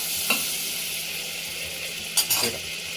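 Butter sizzling in a pan for millet khichdi, a soft steady fry hiss with a few sharp utensil clinks against the pan near the start and end.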